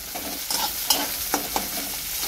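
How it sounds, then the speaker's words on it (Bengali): Onions frying in oil for a meat curry, giving a steady broadband sizzle with a few sharp scrapes as the spatula stirs them, close by and without speech. "আর এখানে মাংসের জন্য পেঁয়াজটা ভাজছি"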